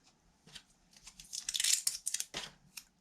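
A paper picture frame being cut with a large silver die, heard as a close run of crisp paper rustles, crinkles and snips that swell in the middle and then trail off into a few scattered crackles.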